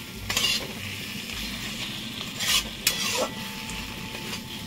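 Spices are sautéed with fried eggplant in a pan, giving a continuous sizzle broken by a few louder scrapes and clanks of a spatula against the pan, close up with no voices.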